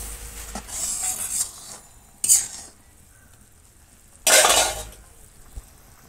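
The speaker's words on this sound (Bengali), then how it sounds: "দেখো জিরে দিয়ে দিয়েছি, তেজপাতা লঙ্কা দিয়ে দেবো ফোড়নে।" A tempering of cumin seeds, bay leaf and chili in hot oil gives a low background sizzle broken by two sharp, close bursts of crackling as ingredients hit the pan, with no talk.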